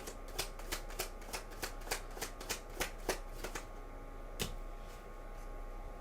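Tarot cards are shuffled in a quick run of crisp riffling flicks, evenly spaced and close, fading to a single snap near the end in a quiet room.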